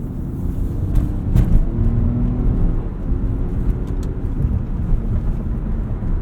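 Inside a 2018 Lexus RX 350 driving over harsh, bumpy pavement, a steady low road rumble fills the cabin, with a few soft thumps as the tires hit rough patches.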